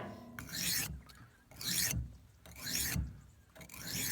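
Steel knife blade drawn across a sharpening stone in four long, even rasping strokes with short pauses between, close and fairly loud.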